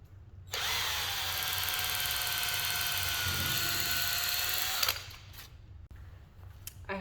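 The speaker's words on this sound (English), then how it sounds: "I've changed out my drill bit for a driver bit that matches the screw that I'm using." A cordless drill fitted with a driver bit runs a screw into a pilot hole in a found-object assemblage. One sustained, close whine lasts about four seconds, then stops sharply, followed by a few faint clicks.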